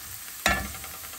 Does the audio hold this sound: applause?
no